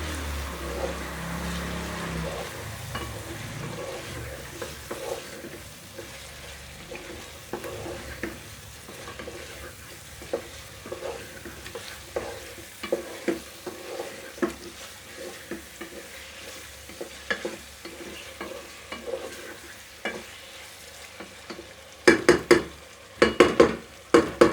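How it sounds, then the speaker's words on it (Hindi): Chicken pieces fry in a pan for a restaurant-style do pyaza, giving a steady low sizzle with frequent stirring scrapes and clinks that grow louder and sharper toward the end, with no talk. "अभी गोश्त फ्राई हो रहा है।"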